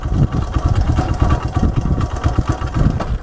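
Motorcycle engine running at low RPM, a rough, close, uneven chugging mid-pitched rumble that pulses irregularly as it sags toward stalling.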